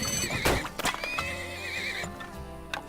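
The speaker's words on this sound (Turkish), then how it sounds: "15 tane atı da alıyorum" Horses neigh and whinny in the video game Turmoil, with a long wavering neigh plus short snorts and clip-clop hoof sounds, loud and close, with no speech.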